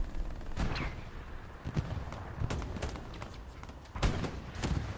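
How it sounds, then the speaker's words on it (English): Rocket artillery strikes landing in Hell Let Loose on the Sainte-Mère-Église map, a string of sharp distant impacts and crackling blasts spread across a continuous battlefield rumble, with several louder hits standing out from the din. "More rockets coming in."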